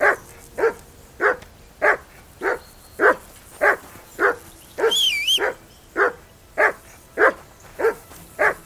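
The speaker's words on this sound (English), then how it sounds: "That barking was a pain in the ass." Persistent dog barking in the medieval game Kingdom Come: Deliverance II, a regular run of loud, evenly spaced barks, briefly overlapped midway by a short whining or whistling cry.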